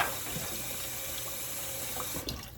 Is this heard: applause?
no